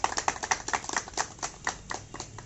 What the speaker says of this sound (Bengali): যার জন্য আমি সবার কাছে একটা হাততালি চাই